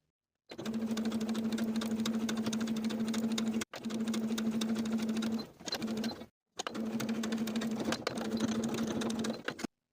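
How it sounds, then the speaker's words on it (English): A home sewing machine top-stitches the fly facing of a denim skirt with a steady, close whir in three long runs, briefly pausing and restarting between them, with no talking. "Then I'll top stitch along my trace line from the top to the center seam, backstitching to secure."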